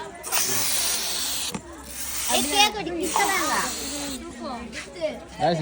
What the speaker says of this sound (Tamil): கஷ்டப்பட்டு அவங்க ஸ்ப்ரேல பேர் எழுதி கொடுக்குறான்